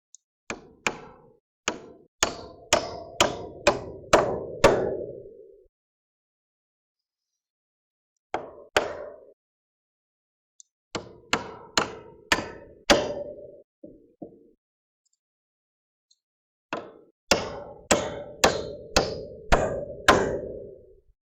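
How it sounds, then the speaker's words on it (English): A hammer striking nails into the end grain of wood blocking in rapid series of blows, each run of hits rising in pitch, with quiet pauses between the sets. "now time to nail it in"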